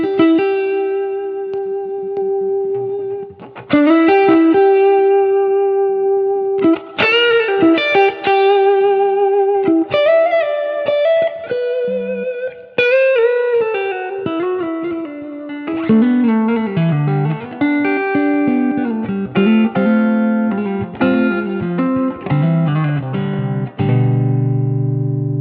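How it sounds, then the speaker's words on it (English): Electric guitar played through a King of Tone overdrive pedal with a compressor switched on, giving mildly driven, sustained chords and melodic single-note lines with a smooth, even level and light reverb, played alone. "yeah, sounds like this with the compressor on."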